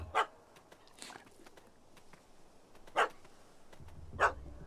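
A dog in The Witcher 3: Hearts of Stone barks in a few sharp, separate bursts over quiet ambience, with a low rumble toward the end.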